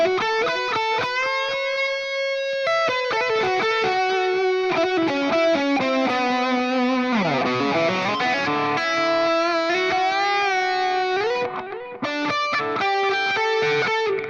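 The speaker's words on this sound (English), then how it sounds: "the other thing that's new when this comes on is the Memory Man" A distorted electric guitar plays a Southern rock lead through a Memory Man delay in a Fender Tone Master Pro rig. Sustained notes and a swooping bend are trailed by echoing repeats, loud and continuous, with no talking.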